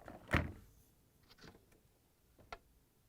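A loud clunk of a Samsung refrigerator's left side door being pulled open, then a few quieter clicks and a faint sharp tap near the end, in a quiet room.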